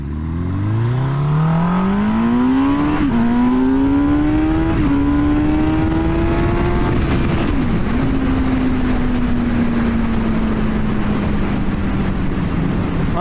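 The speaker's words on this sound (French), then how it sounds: "Allez, petite accélération mon gars." A motorcycle engine revs up close by, its pitch climbing steadily through several gear shifts before settling into a steady cruise, with no voices over the engine noise.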